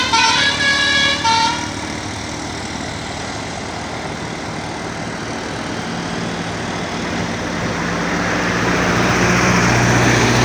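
A Bone Star tour bus sounds its telolet horn on a road between Payakumbuh and Bukittinggi, a loud, melodic series of tooting notes at the start followed by a rumbling engine and passing traffic that swells up close.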